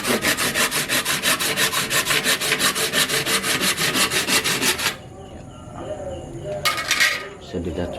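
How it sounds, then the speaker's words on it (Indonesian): A hand saw cuts through a wahong bonsai branch in fast, regular back-and-forth strokes for about five seconds, then stops, followed by quieter handling noises and one brief scrape. "Sambil gergaji dulu sudah,"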